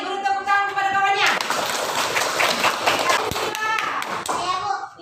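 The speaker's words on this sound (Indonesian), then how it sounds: "Beri tepuk tangan kepada kawannya." Classroom children clap for a classmate, a burst of mixed, lively applause and young voices rising over a child's speech, lasting a few seconds before tapering off.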